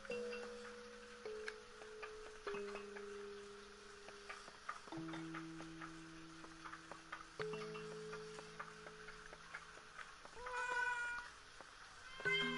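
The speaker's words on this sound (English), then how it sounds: "That cat is talking to me. Oh, it's a sad kitty." Cat in Layers of Fear meowing sadly in a series of drawn-out, mournful cries, one after another across the clip, close and clear over a faint ticking clock.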